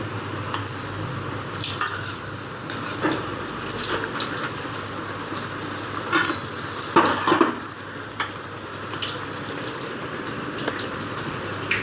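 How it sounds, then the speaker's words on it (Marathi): Onion-topped bread bhaji slices deep-fry in hot oil with a dense, steady crackle and sizzle, with bursts of louder spattering in the middle, heard close and without speech. "लाल होईपर्यंत तळून घ्यायचं चांगलं मस्त."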